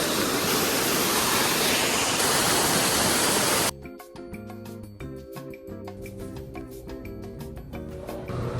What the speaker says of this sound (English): I climbed up closer to the waterfall.